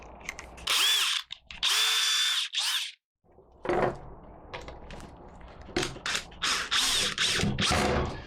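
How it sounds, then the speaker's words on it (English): A power drill whirs in several short, loud bursts with brief pauses between, its motor pitch rising and falling as a screw is driven in close by. "take your little drill, your little screw, and screw it on there"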